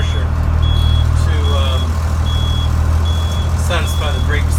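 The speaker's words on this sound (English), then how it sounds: "When it gets to about 90 pounds, this thing will stop beeping." A Blue Bird bus sounds its low air pressure warning as a steady series of evenly spaced high beeps over a loud, rumbling diesel idle, with someone talking over it.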